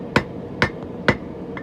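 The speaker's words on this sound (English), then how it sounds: "I'm just going to forge it down a little bit closer to where I need it to be." Hammer blows forge down a large hot metal billet while making a pukko knife, three loud, sharp, ringing strikes at an even, steady pace, close by, with no talking.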